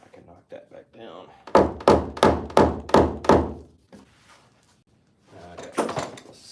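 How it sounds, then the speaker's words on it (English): A paintless dent repair tool knocks down a dent in a car panel during hail repair, giving six evenly spaced, loud, close thunks in a row, then a softer burst of tapping. "Now I can knock that back down."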